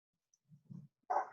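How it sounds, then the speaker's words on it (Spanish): A dog gives a low growl followed by a single short bark, faint and somewhat distant in an otherwise quiet room. "Ese que ladra es el perro."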